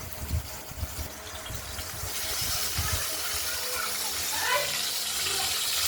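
Potatoes sizzle in hot oil seasoned with cumin and nigella seeds for a katla fish curry. A few low knocks come early, then a steady, close, broad frying hiss builds and holds.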